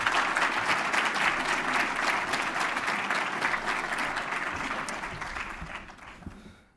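A large audience applauds steadily as a speaker is welcomed onto the stage at an evening university event, dense clapping that holds for several seconds before tapering off at the end.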